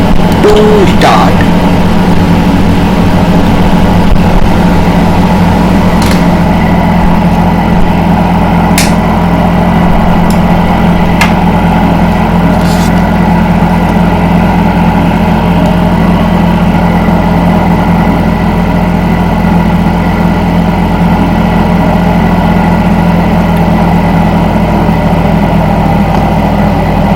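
A BAe RJ100 jet engine spins up and settles into a steady idle in a flight simulator, a continuous loud whine and rumble with a few brief clicks near the start.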